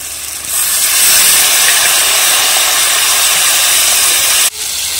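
Water hits spice paste frying in oil for a small-river mourola fish curry with oil and chili, bursting into a loud, close, continuous hissing sizzle that cuts off abruptly near the end.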